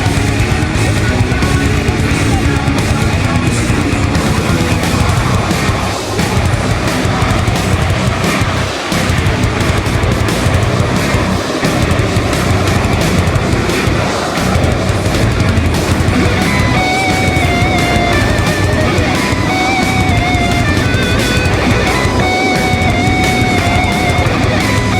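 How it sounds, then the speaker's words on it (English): Blue Angels jets in Diamond formation roar past at an airshow, a loud steady broadband jet roar that fills the whole stretch with no gaps, with a faint whining tone rising near the end. "Diamond will momentarily be making its approach from the right."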